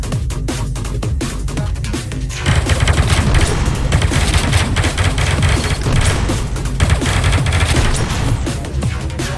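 Dense, loud gunfire from the VR shooting game Out Of Ammo, rapid overlapping shots and booming blasts rattling continuously for several seconds with a brief sharper burst near the start.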